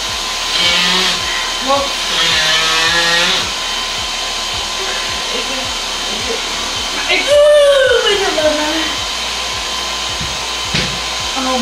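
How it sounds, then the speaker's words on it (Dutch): A household vacuum cleaner runs steadily and loudly throughout, with a whining motor drone and bumping handling sounds as someone talks over it. "Ik ben even aan het stofzuigen."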